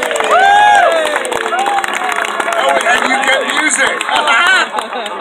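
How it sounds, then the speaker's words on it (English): A crowd at a steampunk event claps and cheers loudly and continuously for a third-place winner, with whoops and shouts rising over the applause throughout. "Round of applause."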